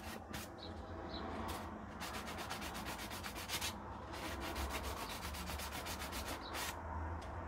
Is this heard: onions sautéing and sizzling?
no